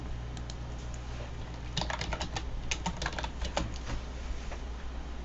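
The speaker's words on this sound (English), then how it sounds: "But you can type in whatever you want." Typing on a computer keyboard while building a Prezi presentation, a quiet run of light, irregular key clicks that thickens into a busier burst midway, with no talking.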